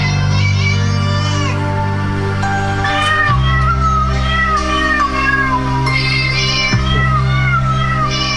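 Cats meowing in a novelty song: loud, continuous, pitched yowls follow a melody over a steady low backing, with no voices speaking.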